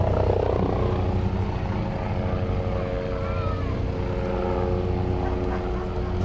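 Propeller airplanes and helicopters fly over a small-town parade near an airport, making a loud, continuous engine drone that holds steady for several seconds, with faint voices beneath it.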